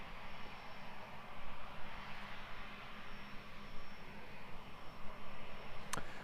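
A Singapore Airlines Airbus A350-900 at Christchurch airport, its engines giving a steady broadband roar heard from a distance, constant and unbroken with no voices over it.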